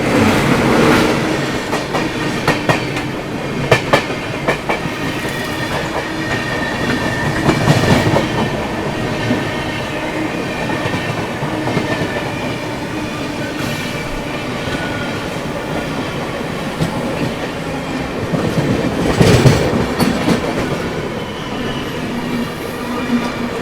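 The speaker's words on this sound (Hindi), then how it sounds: "सामने से आती हुई आगरा से चलकर लखनऊ की ओर जाने वाली इंटरसिटी एक्सप्रेस" The Agra–Lucknow Intercity Express passes near Tughlakabad in a loud, continuous roar of rolling wheels, with rhythmic clickety-clack over rail joints and bursts of metallic wheel squeal.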